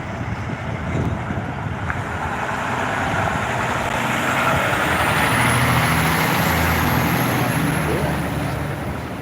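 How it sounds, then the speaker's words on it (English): A fire truck passes along a Toronto waterfront street near Queen's Quay, a loud broadband engine and road roar swelling to a peak midway, with a faint high whine over it. "Here comes the fire truck."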